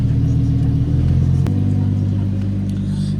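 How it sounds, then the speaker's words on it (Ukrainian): A Lamborghini Huracan EVO's exhaust rumbles steadily, its tone shifting abruptly partway through as a drive-mode change drops the engine note into a deeper, smoother drone. "міняється звук вихлопу в той момент, коли ми переходимо з режиму на режим"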